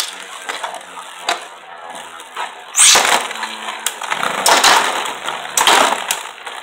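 Beyblade Burst spinning tops, Drain Fafnir against Z Achilles, battling in a stadium outdoors in the cold: loud scraping, clattering collisions with sharp cracking impacts that grow denser and louder partway through, no talk.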